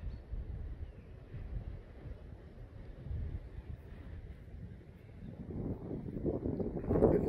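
Low, rumbling gale-force wind buffeting the microphone throughout on an outdoor hill walk at Chanctonbury Ring, gusting louder toward the end.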